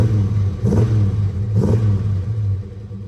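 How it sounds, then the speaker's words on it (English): Engine of a 1979 Camaro barn find with new Hooker mufflers and fresh exhaust pipes, loud deep rumble at idle with two quick throttle blips rising and falling, close by and alone with no talk. "How about a little rev?"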